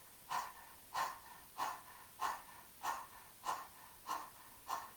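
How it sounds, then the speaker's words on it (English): Eight evenly spaced, sharp breaths push out through the nose in a steady rhythm, close and fairly quiet, with silence between each. "It's like panting like a dog."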